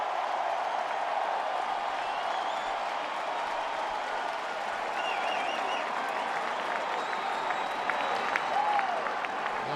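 Baseball crowd at Target Field in Minneapolis applauding a returning player during a Cardinals–Twins exhibition game, a steady, broad wash of clapping and crowd noise from a distance that holds level throughout, with a few faint whistles and shouts on top.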